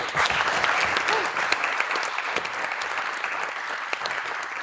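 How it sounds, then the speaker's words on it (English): An audience at a short film festival awards ceremony applauds steadily, with dense, even clapping filling the room throughout. "another round of applause for him"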